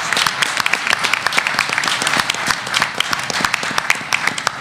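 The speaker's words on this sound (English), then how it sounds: "give a big round of applause to the buyers and to the sellers" Applause from the audience for a panel of media buyers and sellers at a Madison Avenue upfront event, dense sharp claps sustained and fairly loud throughout.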